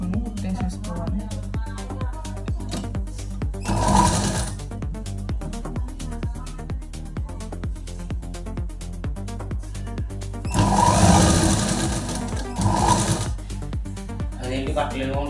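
A sewing machine stitching a small doll's dress, running in a steady rapid rhythmic clatter with a couple of louder bursts, while someone talks throughout over it.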